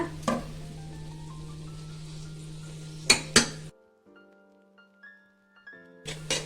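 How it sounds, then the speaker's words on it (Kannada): Ground masala goes into a frying pan of fried peas while cooking tomato bath. Metal utensils clink sharply a few times over a steady low hum, and the sound drops to near quiet in between. "ಈಗ ಇದಕ್ಕೆ ನಾವು ರುಬ್ಬಿಟ್ಕೊಂಡಿರೋವಂಥ ಮಸಾಲೆ ಹಾಕ್ಕೊಳ್ಳೋಣ"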